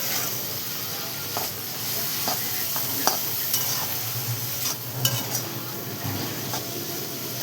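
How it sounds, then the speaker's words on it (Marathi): Bombil fish chutney with onion, salt and spice masala being stirred and sautéed in a pan, with a soft continuous sizzle and scattered scraping clinks of a spoon against metal, close and without talk. "आता आपण हे टाकून घेऊ याच्यामध्ये आणि हे टाकल्याच्या नंतर छान असं परतून घेणारे सगळं मिक्स करून घेऊ बाजूला."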